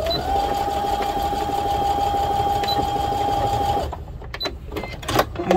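A sewing machine stitches a garden kneeling pad, running steadily with a sustained whine for several seconds, then stops; light handling clicks and rustles follow.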